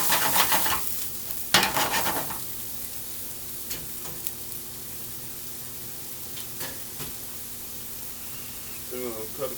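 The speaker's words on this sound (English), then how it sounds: "So I'm gonna add my onions to my pan." Onions dropped into a hot pan for an eggplant mozzarella dish with onion whiskey sauce, giving a steady close sizzle with a few loud bursts at the start and scraping stirs along the way.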